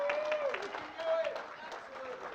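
An audience at a talk breaks into scattered clapping, partly masked by a prominent speaking voice.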